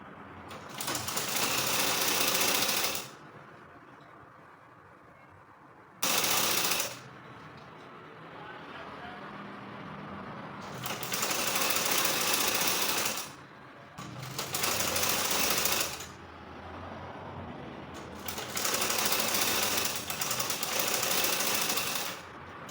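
A sewing machine runs thread along a folded bias neckline on fabric for a triangular bubu top, loud rapid stitching in four bursts separated by quieter pauses with faint talk.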